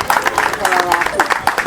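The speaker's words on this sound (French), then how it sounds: "Applaudissez pour ça." Audience clapping at a community football tournament launch in Zogbodomé, a short burst of scattered, moderately loud applause with voices talking over it.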